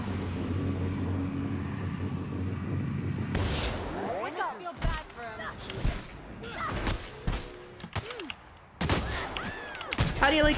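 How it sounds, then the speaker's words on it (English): Shotgun blasts fire in The Outer Worlds video game: a low rumbling ambience, then a run of sharp, loud bursts spaced a second or two apart, with a voice talking among them. "How do you like shotguns to the face?"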